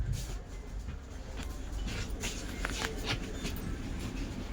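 Inside a moving passenger train, a low steady rumble of wheels on track fills the carriage, with faint rattles and clicks over a quiet, continuous background.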